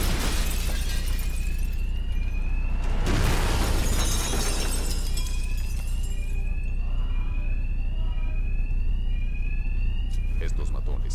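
Alarms blare through a tense stretch of Batman: Arkham Knight, a steady repeating electronic wail running under other game noise, broken by a harsh burst of crashing sound and sharp hits near the end.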